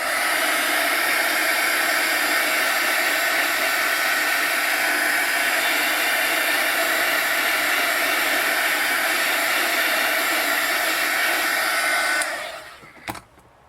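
A heat embossing gun blows over wire mesh, a loud, even rushing whoosh that holds steady at close range for about twelve seconds and then cuts off abruptly.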